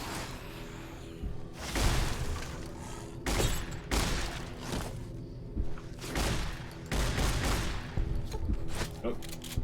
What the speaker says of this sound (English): My gun might run out of ammo before it actually breaks.